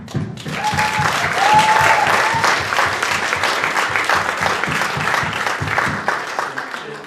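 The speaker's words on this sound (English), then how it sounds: "if everyone could just give us a clap." A room of standing wedding reception guests claps together in sustained, steady applause, loud and close, with a few voices and brief whistles mixed in throughout.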